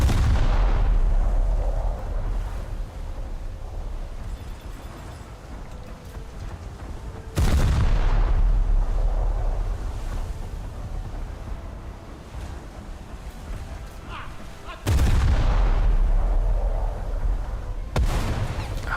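Naval artillery in a warship video game: three heavy booming salvos about seven seconds apart, each a loud deep blast with a long rumbling tail, hitting a ship's front turrets; no talk.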